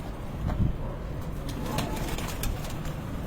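Low pigeon coos repeat under a noisy outdoor backdrop, with a brief flutter of activity near the start.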